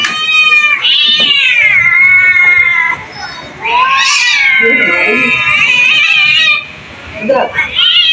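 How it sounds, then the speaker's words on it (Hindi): Cats fighting inside a house give loud, drawn-out yowls and meows in long wailing stretches, rising and falling, with short pauses and a final sharp outburst; a voice can be heard between the cries. "देखिए सारी की सारी बिल्लियाँ आपस में लड़ना शुरू कर दिया"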